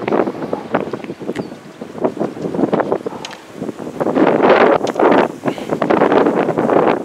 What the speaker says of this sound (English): The wind's not too bad either.